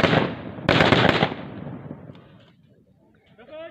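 Rapid gunfire from a weapon demonstration: a loud, close burst of sharp, cracking shots in quick succession, each ringing out with a long echoing decay that fades toward silence.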